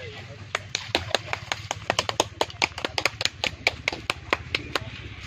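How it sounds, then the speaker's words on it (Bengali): A small group claps by hand at a turtle release outdoors, about twenty sharp, uneven claps over a few seconds, close by and clear above a low background hum. "চলো হাততালি দাও, হাততালি দাও, হাততালি দাও"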